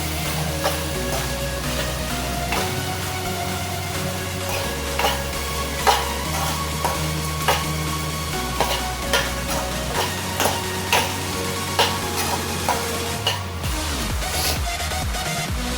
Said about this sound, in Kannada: ಈಗ ಕರೆಕ್ಟಾಗಿ ಮಿಕ್ಸ್ ಮಾಡ್ತೀನಿ.